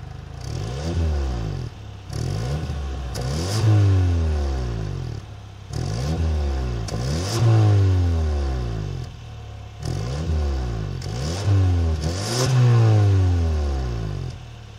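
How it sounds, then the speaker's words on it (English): The turbocharged four-cylinder exhaust of a 2026 Kia K5 GT revs hard in repeated bursts, rising and falling three or four times, loud and close with a raspy, crackling edge. "it still sounds quite impressive for a little turbo four-cylinder"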